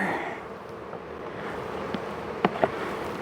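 Honey bees hum on a frame pulled from a hive box, a steady low buzzing drone with a couple of sharp brief knocks near the end.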